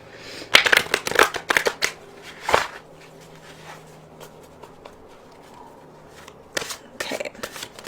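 Tarot cards are shuffled up close in quick riffling bursts, a flurry at the start, a pause, then another burst near the end.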